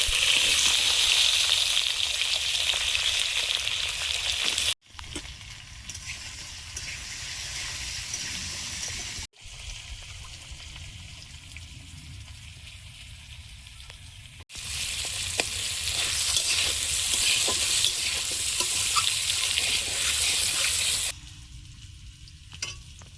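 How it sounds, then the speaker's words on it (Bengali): Potatoes sizzle and hiss steadily in a pan with nigella seeds for a snake gourd curry, a close, continuous frying sound broken by a few abrupt cuts and occasional stirring. "আলুটা হাফ ভাজা হয়েছে"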